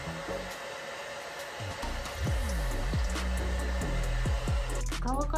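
A hair dryer blows steadily over freshly toner-dyed pink hair, a constant close whirring hiss that shifts in pitch as the airflow is moved around, with no talking over it.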